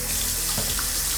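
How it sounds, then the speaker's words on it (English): Tap water pours steadily into a cup, a short, continuous, close splashing rush with no talk. "So I fill the cup up with water"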